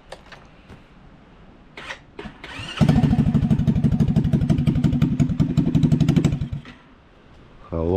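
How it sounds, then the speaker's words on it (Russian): An Alpha 50cc motorcycle engine is cranked with a few short attempts, then catches and runs loud and close with a rapid chugging rumble for several seconds before cutting out; a brief voice is heard at the end. "Еще попробовать завести."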